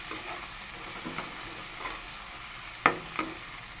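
A large capsicum sautéing in a pan for chicken curry, a soft, steady sizzle with gentle stirring strokes and a couple of sharper utensil clacks against the pan near the end.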